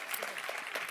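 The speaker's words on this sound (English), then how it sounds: "Let's give her a warm applause, please." Warm applause from a conference audience at the GMF Bucharest Forum, a dense, continuous wash of many hands clapping at moderate loudness.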